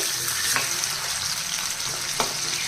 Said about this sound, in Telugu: ఇదిగంటే ఒక సైడ్ కొంచెం ఫ్రై అయినాయి రెండు వైపు టర్న్ చేసుకోవాలండి